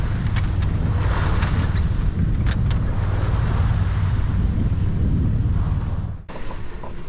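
Strong wind roars and waves crash over a Bowman 46 sailing yacht at night, a loud continuous rush with wind buffeting the microphone and sharp splashes, ending in a brief dip.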